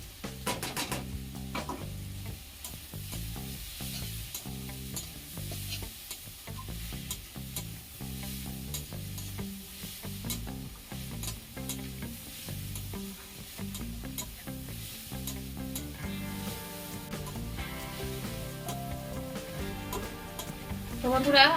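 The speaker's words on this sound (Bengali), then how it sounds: "এবার আমি এই চিংড়ি মাছটাকে দিয়ে এর সঙ্গে নাড়াচাড়া করে নেব।" Shrimp stirred in a pan with fried bottle gourd leaves, a soft steady sizzle with scraping stir strokes running throughout, under occasional talk.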